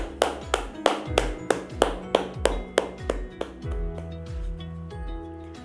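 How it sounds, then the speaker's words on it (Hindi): Students and teachers are applauded at a school sports day: a string of sharp, evenly spaced claps, about two per second, that slowly fade and thin out toward the end. "तो एक बार सभी स्टूडेंट्स और टीचर्स के लिए जोरदार तालियां हो जाए।"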